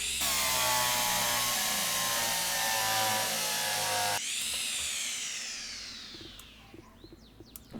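A power drill in the Derail Valley train game whirs loudly and steadily for about four seconds, then spins down with a falling whine that trails off into quiet, faint clicks.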